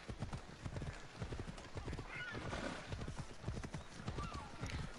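In a video game, a horse gallops with quick, rhythmic hoofbeats that carry on throughout, and a brief whinny comes partway through, close and clear.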